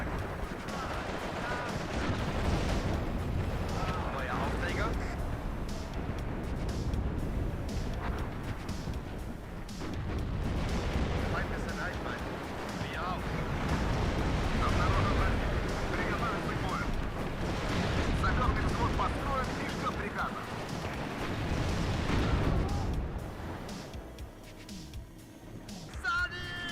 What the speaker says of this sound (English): Artillery and mortar spam.